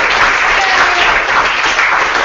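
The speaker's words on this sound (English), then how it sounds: "First, just a big round of applause for our panel of experts." Audience applause for a panel of experts at a food-focused investment event, a steady dense wash of many hands clapping throughout, loud and continuous with no pauses.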